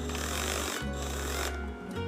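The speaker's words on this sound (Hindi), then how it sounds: "अभी जो है ये हमर मोड में है।" An Izom battery-powered screw drill runs in hammer mode, its selector switch faulty. The motor whirs loudly and continuously up close, with a brief dip partway through.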